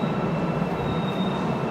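A Seoul metro subway train in motion gives a loud, steady rumble and roar with a thin high whine, heard from inside the car without voices.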